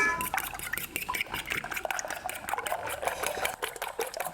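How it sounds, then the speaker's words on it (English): Eggs are beaten in a bowl for Italian Easter bread, giving quick, steady wet whisking clicks and sloshing up close, with no talking. "So we're going to beat our eggs."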